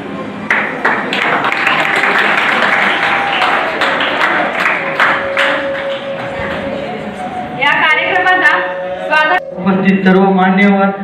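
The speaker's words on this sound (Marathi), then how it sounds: "चार टाळ्या पुरेच आहेत" A school audience at a self-governance day event claps in scattered, uneven bursts that give way to talk. A voice is heard, with chatter and some tonal ringing toward the end.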